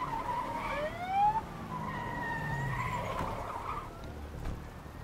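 An ambulance siren in the action video game A Way Out: wailing, rising tonal sweeps over a steady engine-like rumble and road noise, moderately loud and continuous, with no talking.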